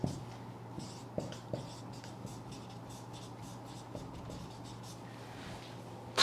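Pen or marker writing on a board during a chemistry lesson, soft scratchy strokes with a few sharp taps, quiet and close, with no talk over it.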